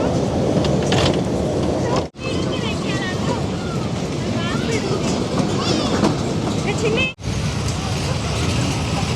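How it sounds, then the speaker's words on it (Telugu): A toy train running at a fairground exhibition, its rumbling wheels and rhythmic clatter loud and continuous, with a brief break twice and people audible in the background. "ట్రైన్ చూడండి ఫ్రెండ్స్ ఎంత బాగా వెళ్తుందో. Toy train"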